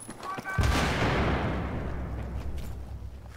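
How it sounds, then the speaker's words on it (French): Gunfire in the video game Battlefield 3: a sudden loud burst of shots that rings out and decays slowly over several seconds, close and dense. "Je t'ai mis trois petites rafales."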